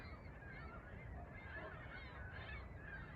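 Geese honking on a lake, a dense, continuous racket of overlapping nasal calls from a flock, fairly loud and steady throughout with no talking.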